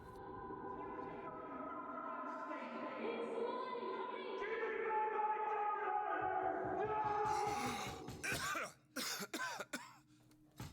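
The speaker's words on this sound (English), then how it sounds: "Cough, cough." A run of several hoarse coughs in quick succession comes after a stretch of music-like tones, fairly close and abrupt, in the video game BioShock Infinite: Burial at Sea.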